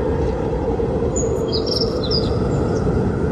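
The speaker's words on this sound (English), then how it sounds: "Let's pair that with birds chirping." Brief, high bird chirps and tweets from a portable sound machine ring out over a steady, loud rushing cold-wind noise that fills the whole clip.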